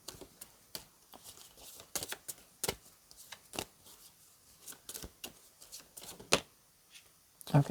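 Tarot cards are riffled and shuffled in short, crisp bursts with small pauses, close by and fairly quiet.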